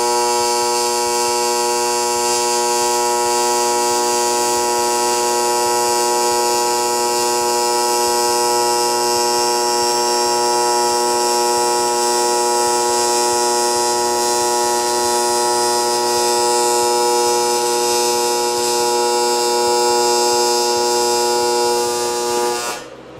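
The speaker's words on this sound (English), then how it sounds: "we've already turned the machine down to 110 amps, and so we're going to weld this bead right here" A TIG welder runs an aluminum bead at 110 amps, giving a steady, loud electric buzz rich in harmonics. It holds unbroken for over twenty seconds and then cuts off abruptly at the end.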